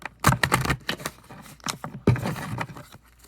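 Tarot cards are shuffled by hand in close, crackling bursts of rapid riffling and patting, in several quick flurries.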